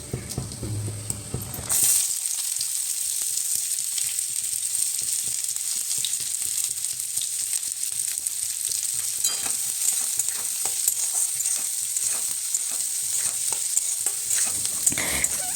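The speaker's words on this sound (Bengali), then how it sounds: "ওই কড়াইয়ে সর্ষের তেল দিয়ে তেলটা গরম হয়ে যাওয়ার পর পেঁয়াজগুলোকে ভেজে নিতে হবে।" Onions fry in hot mustard oil in a wok, a loud, steady sizzle that bursts in after a quiet start and keeps up close throughout, with occasional stirring scrapes and clicks.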